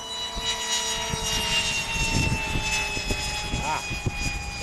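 Electric ducted fan motor on a Minivolt model aircraft, a steady high-pitched whine with some pitch shifts, heard outdoors while people talk nearby.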